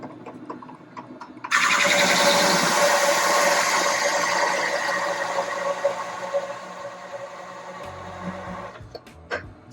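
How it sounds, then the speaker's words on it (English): A hole saw bites into a Thurmanite disk with a loud, close, continuous whirring grind that starts abruptly and holds for about seven seconds, easing slightly before it stops. "a little bit of smoke can be common with using a hole saw"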